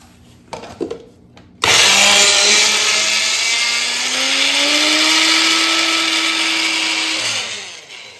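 A mixer grinder whirs loudly for several seconds as it grinds potato bhajiya ingredients after a few brief clicks at the start, its motor pitch slowly rising and holding steady before winding down, close and alone without talk.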